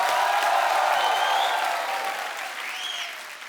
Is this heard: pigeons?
no